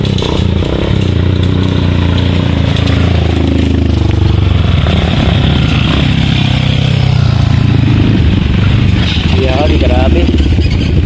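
Motorcycle engines roar and rev continuously up close on rough terrain, loud and rough, with clattering and a voice speaking over the noise.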